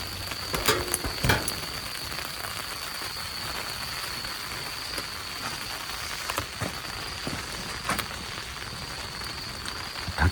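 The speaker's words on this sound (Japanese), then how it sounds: "雨降り出しました。" Rain falls steadily on a campsite in a resort hotel garden, a dense even patter of drops with occasional sharper ticks close by, and no talking.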